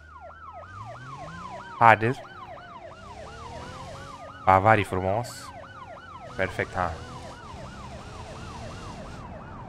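A wailing police siren in the BeamNG Drive driving game rises and falls steadily over engine hum, while someone talks in short bursts over it.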